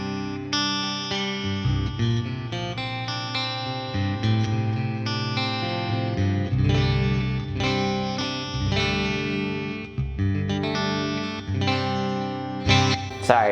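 Electric guitar played with a clean tone in split-coil position through a Johnson J-Station modeling amp, ringing chords and single notes with chorus-like shimmer and reverb, close and prominent, with no talking.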